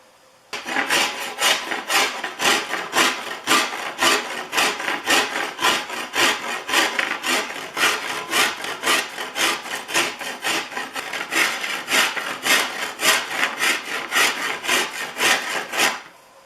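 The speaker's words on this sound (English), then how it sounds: "I've been working on it with the farrier's rasp." A farrier's rasp files a maple wood bow handle. The strokes are steady, rhythmic and close, each one a loud rasping scrape, repeated continuously with no talking.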